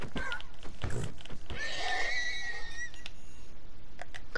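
A horse in the Minecraft video game gives a wheezy, whistling neigh in the middle of the clip, with brief clicks and thumps of game play around it.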